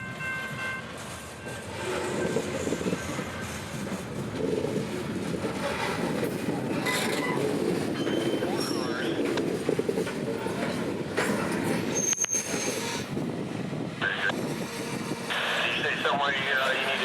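A freight train shoving railroad cars on a spur track, steady close rumble of rolling cars with clicking wheels and occasional metallic squeals, continuing without pause throughout.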